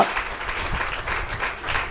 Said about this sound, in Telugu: చప్పట్లు కొట్టండి అందరూ కూడా